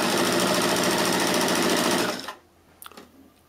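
A sewing machine stitches fabric in a loud, steady, fast mechanical whir for about two seconds, then stops abruptly and leaves a few faint clicks.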